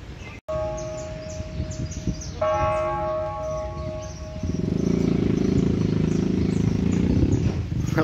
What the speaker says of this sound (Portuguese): As badaladas.